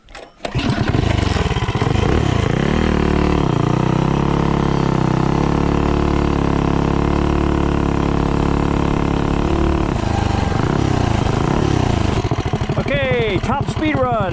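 A motorcycle fitted with an Autolite racing spark plug makes a top speed run: the engine fires up, then holds a loud, steady high-rpm drone for most of the run before easing off, with rising and falling engine tones near the end.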